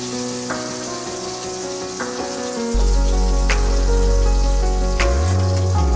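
Two green chillies go into hot oil with black mustard seeds for bottle gourd korma, a crackling sizzle that swells into a loud, steady, close frying hiss partway through, with a couple of sharp spits.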